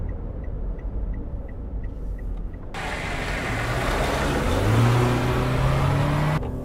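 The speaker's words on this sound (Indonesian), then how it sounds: "Sekarang kita coba kalau kita putar baliknya agak kencang." A Daihatsu Sigra car makes a fast U-turn, with the engine revving louder and rising in pitch as it accelerates through the turn under steady road and cabin rumble.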